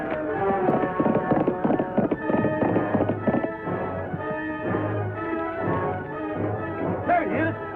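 Horse hooves clip-clop in a steady, rhythmic beat in an old western, continuing throughout with other sound layered over them.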